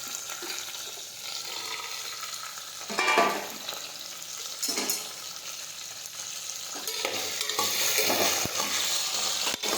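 Pointed gourd and potatoes fry in hot oil seasoned with mustard seeds, cumin and asafoetida, giving a continuous close sizzle. Scraping stirs with a spoon break through it from time to time, and the frying grows slightly louder near the end.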